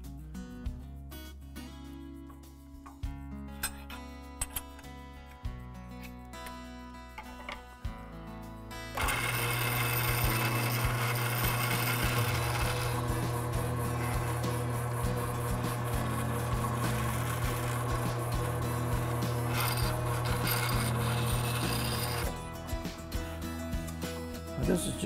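A steady motorized whirring of a small power drill with a pointed bit deburring edges runs continuously for several seconds, preceded by clattering handling noises, no talking.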